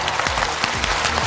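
A studio audience bursts into loud, dense applause to welcome a guest on a health talk show, the clapping sustained and close under a faint low voice.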